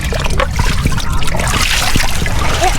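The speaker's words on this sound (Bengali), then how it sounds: "মেন রোডের উপর দিয়ে পানি যেতেছে।" Rainwater streaming across a main road after heavy rain, a loud close trickling and splashing wash that runs steadily throughout with no talk.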